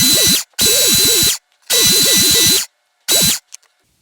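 Electric knife sharpener grinding a blade in four loud, close bursts of whining motor and abrasive rasp, each a second or less with short silent gaps between, ending with a small tap.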